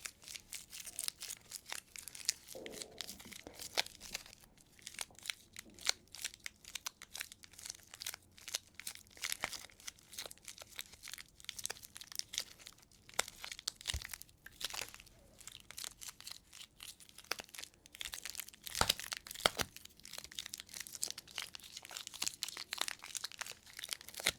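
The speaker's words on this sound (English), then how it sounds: "We'll make some sticky crinkling sounds" Sticky food packaging from an autumn and Halloween snack haul is crinkled and crushed up close, a steady run of crackling bursts with no talking.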